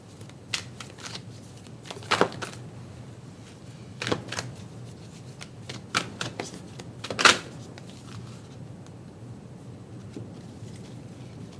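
Tarot card deck being shuffled by hand, soft papery riffles and flicks arriving in irregular bursts with quiet gaps, close and fairly faint.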